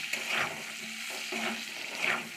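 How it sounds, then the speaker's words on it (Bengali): Gatta, gram-flour dumplings for a Rajasthani curry, fry lightly in a pan with a soft, steady sizzle, broken by a few gentle stirring scrapes. "দেখুন বন্ধুরা, এইভাবে ভেজে নিতে হবে হালকা"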